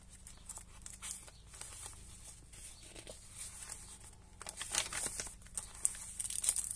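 A glassine paper bag pocket in a handmade junk journal crinkles and rustles as it is handled, with soft irregular crackles building louder toward the end, no voices.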